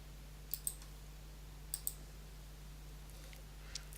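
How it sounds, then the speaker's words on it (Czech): A computer mouse clicks faintly in a quiet room over a steady low electrical hum, two quick double-clicks followed by a single soft click later. "a klikneme na vstup."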